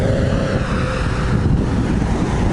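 Steady roar of passing cars in heavy road traffic close around a cyclist riding at about 36 km/h near Bracknell, a loud continuous broadband rush with no pauses and no talking.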